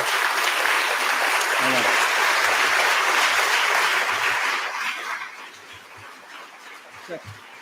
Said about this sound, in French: Nicolas Caudal et Charles Bossert, on peut déjà les applaudir.